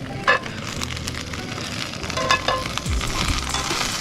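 Sausages sizzle softly on an outdoor grill at a wharf, a steady low frying hiss with occasional pops and a few clanks, moderately close, with no talk.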